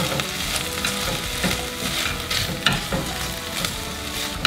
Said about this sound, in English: we are properly sauteed on the veggie front